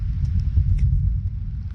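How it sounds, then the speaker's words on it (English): Distant thunder during a storm at sea rolls as a low continuous rumble aboard a sailing boat near Chapman's Pool and Worbarrow Bay, faint high ticks scattered over it. "Still hear the thunder though."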